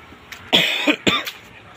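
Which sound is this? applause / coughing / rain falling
coughing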